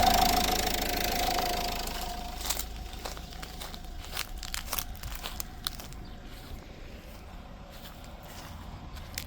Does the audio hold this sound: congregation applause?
no